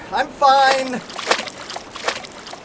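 Someone wades into cold water, producing light splashes and sloshing under an excited voice talking.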